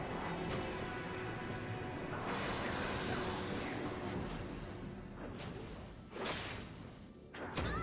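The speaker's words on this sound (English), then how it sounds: "Your team has destroyed a tower." Arena of Valor on Nintendo Switch during a tower destruction, with dense game effects: repeated thuds, whooshes and impact crashes layered over a busy, continuous battle background.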